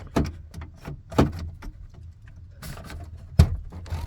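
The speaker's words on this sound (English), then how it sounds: "the idea is that I want to pull the door open." A car door is unlatched and pulled open after its lock comes undone, giving a few close mechanical clunks and clicks spread out over several seconds, ending in one sharp knock.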